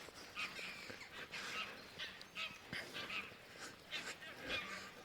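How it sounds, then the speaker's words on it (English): Greylag geese honk repeatedly at a distance after landing on a meadow by a farmyard at dawn, their calls irregular and layered over a faint outdoor background. "Oh, that's those greylag. They've landed on the meadow. They didn't go very far."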